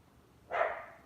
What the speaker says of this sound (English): There's my dog barking, Lulu.